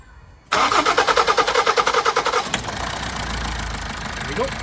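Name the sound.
Toyota Avensis 2.0 D4D diesel engine starting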